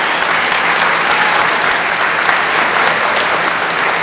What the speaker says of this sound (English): A round of applause for the great work they do every day.